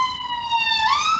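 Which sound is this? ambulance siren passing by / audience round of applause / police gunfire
ambulance siren passing by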